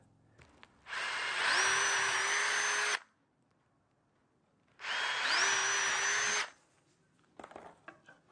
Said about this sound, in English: what I'm going to do is drill a couple of holes here